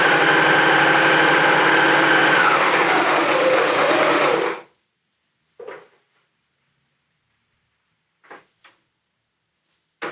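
A sewing machine stitches fabric in a fast, steady whir for about four seconds, its pitch shifting briefly as it backstitches at the end of the seam, then stops and leaves a few soft handling clicks and taps in near silence.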